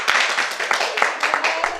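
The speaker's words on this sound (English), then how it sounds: "Give yourself a round of applause." A small group claps for Gertrude's birthday, a short round of brisk, uneven applause heard close up, with a voice speaking over it.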